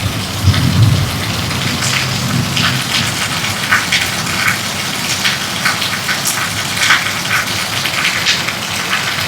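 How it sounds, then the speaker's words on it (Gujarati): Heavy rain pours down steadily and close in Bhiloda, a dense drumming wash with scattered drips, and a low rumble of thunder rolls early on. "આમ ખતરનાક વરસાદ ચાલુ છે"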